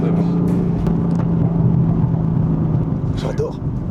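A BMW M3 F80 accelerating, its exhaust a deep, rough rumble that holds steady and swells slightly midway, heard from inside the car with faint talk underneath.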